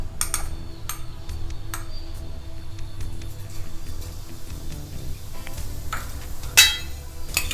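Cumin seeds dropped into hot oil in a pan, a soft crackling sizzle with scattered small pops and ticks over a low steady hum, plus a sharp clink of utensil against the pan near the end.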